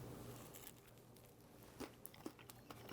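Faint, scattered crunches from bites into toasted bread topped with a garlicky cheese spread, quiet and close with a few sharper cracks near the end.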